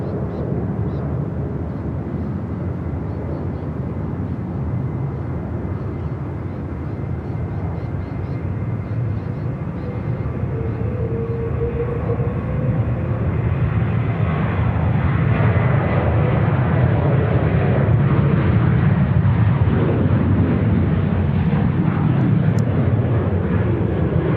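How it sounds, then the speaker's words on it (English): An airliner comes in to land on runway 34 left at Sydney Airport, a broad, steady jet roar that swells slowly as it nears and stays loud and continuous with no talk. "Going to bring it in on runway 34 left."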